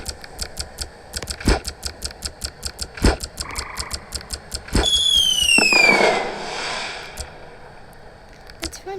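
Fireworks from a firework creature in the game Creatures of Sonaria: sharp crackling pops in an irregular rhythm, then a rising whistle and a whooshing burst around the middle, followed by more scattered crackles.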